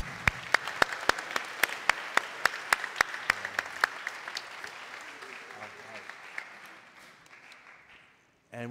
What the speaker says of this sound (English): let's give Leah and her family another round of applause